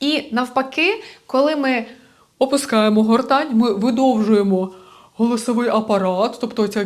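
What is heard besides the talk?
No distinct noise like a dog, phone or traffic.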